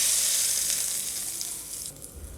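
Hot tempering poured into a bowl of onion chutney, giving a loud, close hiss of sizzling oil that fades slightly toward the end.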